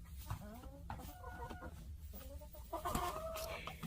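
Chickens cluck and murmur inside a coop, several birds close by with short rising calls and chatter overlapping one another.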